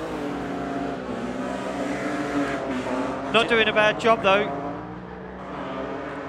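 BMW 328 compact race car in Pro-Am qualifying, its engine droning steadily with a brief burst of harsh revving near the middle, heard under continuous commentary.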